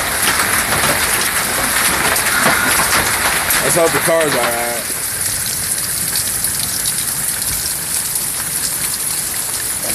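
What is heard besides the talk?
large hail falling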